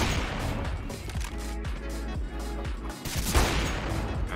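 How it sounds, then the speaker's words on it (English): Gunfire in Counter-Strike: a dense, continuous clatter of rapid shots and booms, loud and close, with a hard low rumble that cuts out near the end. "why are you shooting him?"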